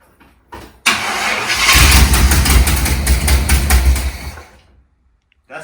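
A Chevrolet Vortec 350 V8 turns over and fires after a short crank, then runs loud and close with a rough, pulsing rumble before cutting off.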